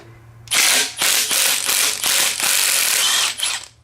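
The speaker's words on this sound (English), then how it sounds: "just whack it with the heavy impact right away and see if they come out?" A pneumatic impact wrench hammers in several loud, rattling bursts separated by brief pauses, close to the microphone, removing bolts from a Nissan G35 engine.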